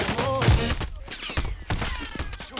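Incendiary rounds are fired in a video game, a dense, continuous crackle of gunshots and impacts with low booms mixed in, loud and busy throughout.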